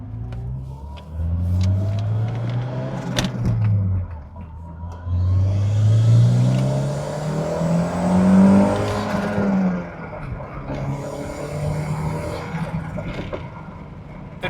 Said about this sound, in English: The turbo noise is, almost overwhelming in here.